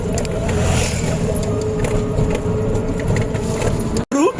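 An auto-rickshaw ride, the small engine droning steadily beneath rattling body noise and a jingling of loose metal, with road rumble throughout and a brief break near the end.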